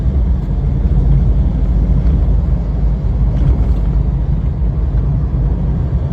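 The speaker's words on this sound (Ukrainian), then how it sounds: "Тоже мощненько мотор їде, турбіна працює." A deep, loud turbo diesel engine of a Mitsubishi L200 pickup drones steadily throughout, heavy low rumble with a faint turbo whine on top, as if heard from inside the moving truck.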